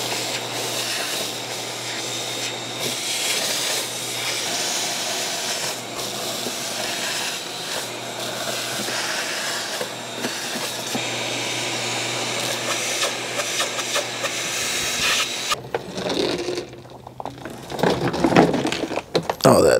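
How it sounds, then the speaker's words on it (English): Shop vac running steadily with a loud, continuous whooshing roar as it cleans debris out of a home AC unit outdoors in Washington State, then cutting off near the end into choppier rustling and handling noise. "We can just get our shop vac, get this cleaned out."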